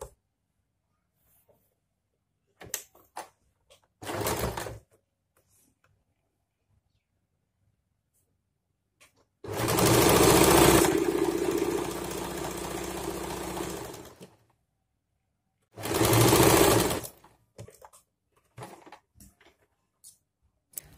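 A sewing machine runs a seam along a layered frock fabric strip for a small child's dress, a close, steady whir in one long burst of about five seconds, then a second shorter burst after a pause, with small handling clicks between.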